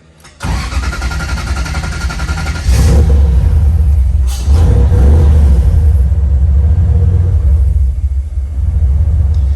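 Toyota 3UZ V8 swapped into a Nissan 240sx cranks and fires, then settles into a loud, steady exhaust rumble with a couple of brief rev surges, close by and without talk.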